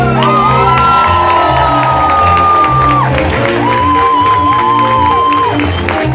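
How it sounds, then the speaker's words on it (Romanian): Lively crowd at an improv comedy show cheers, whoops and shouts continuously, with children's yells and some clapping mixed in; a loud, steady wall of crowd noise with a whistle-like tone rising over it. "în aplauzele voastre, cu urlete, cu țipete"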